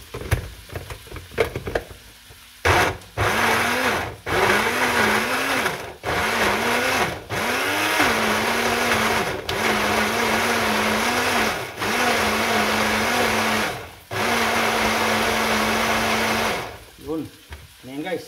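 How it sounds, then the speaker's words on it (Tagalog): Onion, ginger, lemon and pepper blending in a kitchen blender, a loud steady motor whir that runs in long bursts, stopping and restarting several times with short pulses near the end. "i-blender natin guys para hindi tayo maghiwa."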